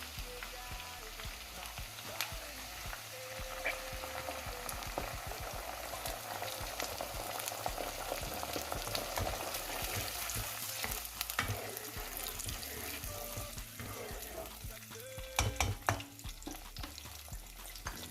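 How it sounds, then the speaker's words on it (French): Onion cooking with tomato purée in a pan, a low, steady bubbling sizzle with light stirring scrapes and a brief burst of clatter near the end, quiet and without speech. "On laisse cuire pendant une petite minute l'oignon. Je vais rajouter de la purée de tomates"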